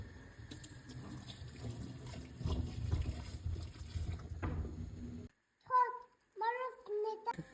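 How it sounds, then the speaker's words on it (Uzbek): Sugar pours into a pot of boiling water while making homemade chocolate, giving a rushing, bubbling wash of liquid noise that cuts out abruptly near the end, followed by brief children's voices. "Shakarimiz quyamiz, qaynayapti."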